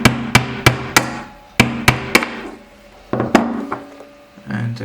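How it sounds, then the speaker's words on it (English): Sharp metal hammer blows knocking at the pressed-in pins of a pneumatic filter regulator. Loud, close strikes land in quick clusters of three to four with ringing decay, with brief pauses between the groups. "And maybe something heavy to hammer on."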